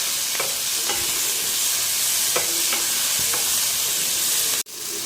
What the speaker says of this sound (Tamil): இதை பார்த்திங்கன்னா எல்லாம் சேர்ந்து நல்லா ஒன்றுபட வதங்கணும்.